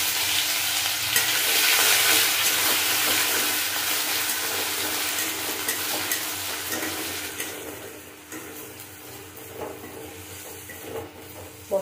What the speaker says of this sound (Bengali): আর ফোড়নটা নাড়াচাড়া করবো।